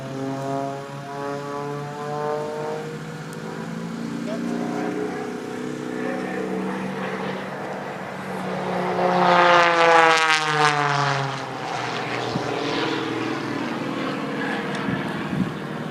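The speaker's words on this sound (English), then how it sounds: "Look at the roll rate of that airplane as he snap rolls it" An aerobatic propeller airplane engine drones loudly during snap rolls, its pitch sweeping up and down as it maneuvers, swelling as it passes close overhead at an airshow.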